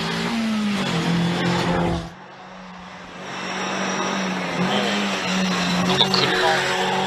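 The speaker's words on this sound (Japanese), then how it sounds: "なんか車結構速そうだぞ。" A rally car drives fast on the Shibukawa Ikaho special stage SS2 at the TGR Rally 2024, its engine note holding then dropping off and rising again, heard from a distance with some passing roar.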